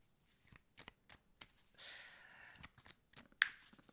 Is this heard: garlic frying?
no